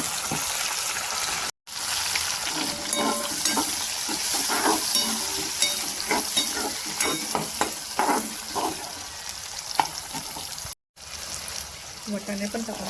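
Tomatoes fry in a pan while methi bhaji is cooked, making a close, continuous sizzle with frequent scraping and stirring clatter, plus two brief dropouts in the sound.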